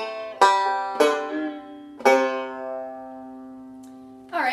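Banjo phrase that includes a string choke: three plucked strikes, the last left to ring and fade, closely recorded, followed by a short noise at the end.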